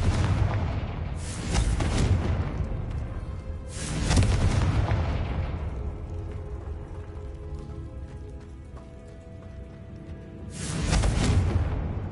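A Confringo blasting spell exploding in a PS5 video game, heard as loud booming blasts that roll out with a long rumbling decay, with a second explosion near the end over a steady game soundscape and no talking.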